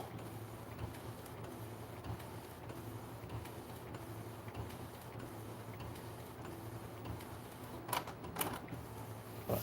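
An Epson EcoTank ET-8550 inkjet printer running a DTF print, a steady mechanical whir with soft ticking of the moving print head and a few sharper clicks near the end, no voices.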